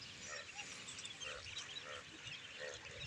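Farm ducks call repeatedly in a flock, overlapping nasal quacks and honks scattered through the clip over a steady outdoor background.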